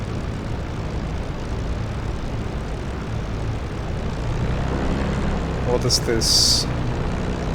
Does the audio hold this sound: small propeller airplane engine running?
yes